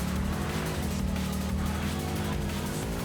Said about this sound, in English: I remember this car being loud as hell as well.